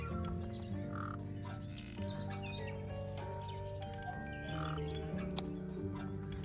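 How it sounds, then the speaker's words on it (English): Three brightly colored birds in a heavy ornate cage in the Tangle Tower video game chirp and tweet in quick bright bursts, woven into a steady backdrop of game music. "3 brightly colored birds in a heavy ornate cage."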